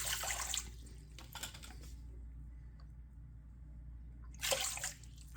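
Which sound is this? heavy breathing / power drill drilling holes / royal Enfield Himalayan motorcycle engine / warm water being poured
warm water being poured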